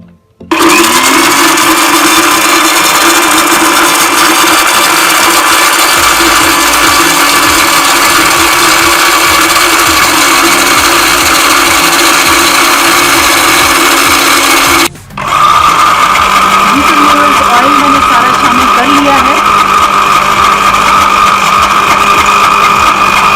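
A kitchen blender runs at high speed blending oil into homemade mayonnaise, a loud steady whine that cuts out briefly midway, then resumes with a slightly lower, thicker tone as the mixture emulsifies.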